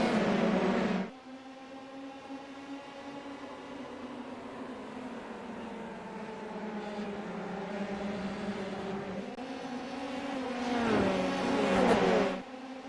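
A Formula 3 race car in a racing video game pulls away hard, its high engine note climbing steadily through the gears as it accelerates, with a sharp rev swell and shift near the end, loud and close, no voices.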